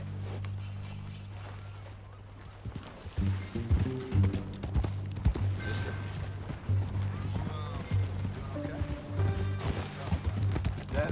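Horse hooves clip-clop at a steady walking rhythm in Red Dead Redemption 2, starting a few seconds in, moderately close, over a low droning music bed.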